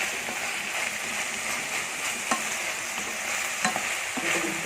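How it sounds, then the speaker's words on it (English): Vegetables fry in a pan and are stirred continuously while cooking for a salmon dish in creamy mushroom sauce, giving a steady crackling sizzle with a few sharper scrapes and clinks, moderately loud and without speech. "Just have to continue stirring it until all the vegetables"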